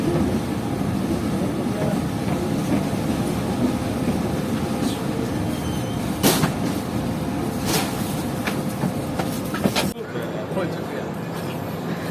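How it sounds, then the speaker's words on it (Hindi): A train pulls into Rahim Yar Khan railway station, a steady low rumble of rolling cars running throughout with brief bright screeches near the middle and a sudden drop near the end, voices talking over it. "हमारी ट्रेन पहुंच रही है रहीम यार खान रेलवे स्टेशन पर"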